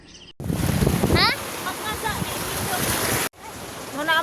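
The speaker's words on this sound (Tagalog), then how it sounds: "Nara dito sa ubos ang dagat." Waves of the sea below wash steadily under gusting wind noise on the mic, while voices speak and faint birdlike chirps come and go.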